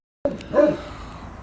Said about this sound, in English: I apologize about the dogs next door.